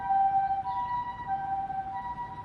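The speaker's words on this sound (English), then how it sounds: "We have a ambulance or kyukyusha." A Japanese ambulance siren wails on a street in Sakai, Osaka, holding steady, clear tones with a slight pitch shift midway, fairly close and uninterrupted.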